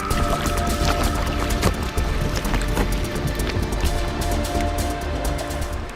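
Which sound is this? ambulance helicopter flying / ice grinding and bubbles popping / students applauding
ice grinding and bubbles popping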